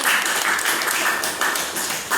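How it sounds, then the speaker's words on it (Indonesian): A classroom group applauds, a dense, even patter of clapping that carries on steadily without pause. "Tepuk tangannya untuk kelompok 1"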